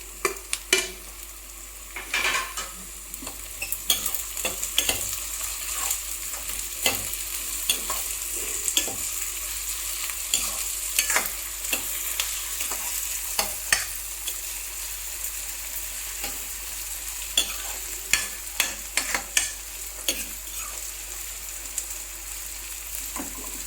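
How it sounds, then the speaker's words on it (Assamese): Cardamom pods, cloves and garlic fry in hot oil in a pan for a chicken curry, a close steady sizzle broken by frequent sharp spatula scrapes and taps, with no talking. "এইদৰে মই অকণমান দেৰি ভাজিম।"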